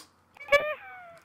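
A cat gives a single clear meow, close and moderately loud, in a quiet scene with a faint thump at the end.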